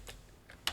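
A few quick taps on a computer keyboard while entering a LOTRO chat command, three faint clicks spaced apart in a brief moment.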